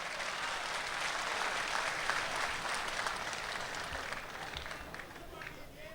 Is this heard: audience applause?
yes